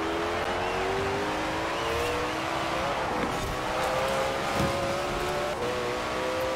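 Koenigsegg Jesko hypercar accelerating hard in Forza Horizon 4, its engine note climbing steadily in pitch through the gears as a loud, continuous roar with tire noise, no talking.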